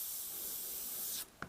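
An airbrush sprays paint onto paper at 20 psi, a steady, airy hiss continuing for over a second, then cutting off abruptly, followed by a brief soft click.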